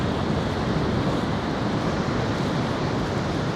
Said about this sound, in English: The waves are very high at the moment.